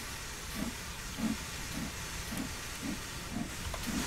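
Steam hisses steadily from the open cylinder cocks of a steam locomotive pulling out of Crewe in Train Sim World 2, with soft rhythmic chuffs pulsing beneath the continuous hiss.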